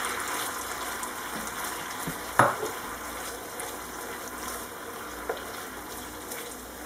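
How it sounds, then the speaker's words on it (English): Caramelized onions go into a pan of reduced sauce for apple butter pork chops, giving a soft, steady sizzle with one clear clunk and a few faint scrapes. "So I'm going to add the caramelized onions in."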